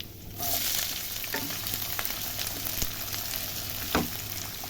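Chopped onion fries in hot mustard oil with a continuous close sizzle, broken by scattered crackles and occasional spatula scrapes against the pan.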